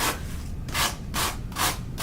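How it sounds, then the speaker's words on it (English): A sanding sponge rubs along the edges of foam board in brisk, rhythmic back-and-forth strokes, about four scratchy swipes close up with no talking. "So you just take your sanding sponge and then just go along it."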